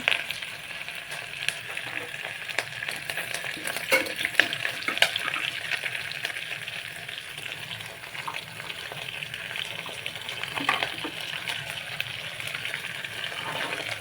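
Chillies and curry leaves frying in oil, a steady close hiss and crackle with faint scattered pops throughout, no talk.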